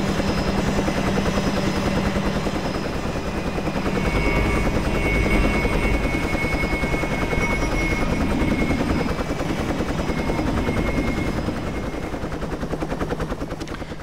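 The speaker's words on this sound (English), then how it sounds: "There is also a helicopter connection between the airport and Apeldoorn." A helicopter flies in the Trainz train simulator game, its rotor chop and engine whine loud and steady for the whole stretch with no one talking.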